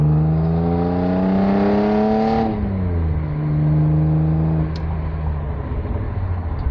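A cold BMW E36 fitted with a Remus exhaust revs hard on a short, easy pull, its engine note climbing loudly, dropping at a shift, then building again close by with no talking.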